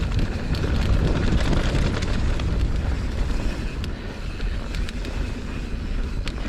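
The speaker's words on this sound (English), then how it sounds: "there's actually wind today, so I wasn't expecting some wind" Outdoor wind buffeting the microphone on a farm, a steady loud rumbling roar with gusts rising and falling throughout, with no voices.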